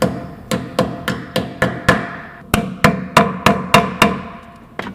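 A hammer strikes wheel weights onto a tire rim in a quick run of sharp, ringing metal blows, about a dozen hits in bursts, close and loud.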